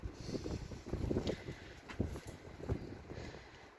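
Gusty wind buffets the microphone outdoors in Turkey in rough, uneven bursts, a continuous low rumble with sharper gusts rising and falling throughout.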